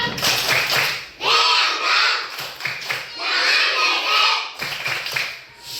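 A school class performs a rhythmic clap chant together, loud group clapping mixed with children's chanting voices in repeated phrases, with short pauses between bursts.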